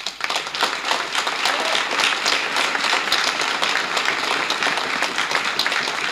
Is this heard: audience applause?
yes